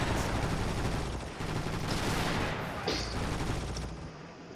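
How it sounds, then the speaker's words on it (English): Sustained machine gun fire in the Far East War strategy game, a dense continuous rattle of rapid shots with a few louder bursts, steady and close throughout. "now Pip Army is getting slaughtered by the MG"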